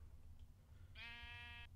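A sheep in the video game Minecraft lets out a single nasal, wavering bleat lasting under a second, clear over a quiet low background hum.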